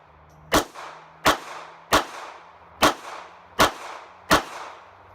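Six evenly spaced shots from a Sig Sauer P238 pistol at a shooting range, each a loud sharp crack with a brief ringing tail, about two-thirds of a second apart.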